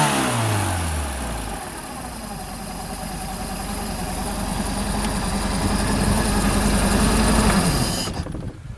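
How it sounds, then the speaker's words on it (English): The engine of a 1978 Hammond runs steadily at idle, then revs up smoothly and holds a higher, louder drone before cutting away near the end, with no talk over it. "And no hesitation when you rev it."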